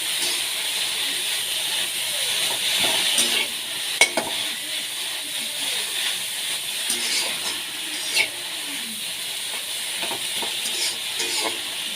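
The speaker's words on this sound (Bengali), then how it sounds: "ছাপাটা ভালো করে ভেজে নেব" A paste of prawn heads and bottle gourd leaves fries steadily in a pan, with a continuous loud sizzle and hiss broken by a few sharp stirring knocks and scrapes. No voices are heard.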